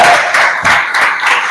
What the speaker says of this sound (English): Put a round of applause for Aleksey